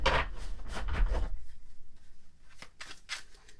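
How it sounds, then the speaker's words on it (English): A Rider-Waite tarot deck is shuffled by hand at close range, with a dense riffling burst followed by quieter intermittent card flicks and shuffles. "And I am going to be live shuffling."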